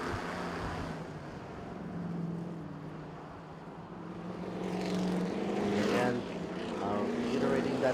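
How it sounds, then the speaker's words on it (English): TCR Asia touring race cars roar past during a 2019 round at Bangsaen, Thailand. The engine noise swells as the cars pass midway through, with commentary running over it. "Hearing these cars roar by gives me the jitters."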